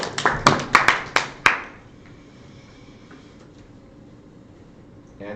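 A short burst of a few hand claps rings out at a Mafia World Cup finals tournament table, roughly six sharp claps in quick succession over a second and a half, then near silence with faint room tone.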